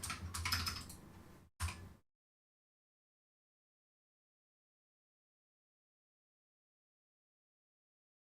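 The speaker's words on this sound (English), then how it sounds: "I apologize if the sound of the keyboard is annoying for you." Rapid clicks from a clicky computer keyboard at a PC setup, close and fairly loud for about two seconds with a brief pause, then silence for the rest of the clip.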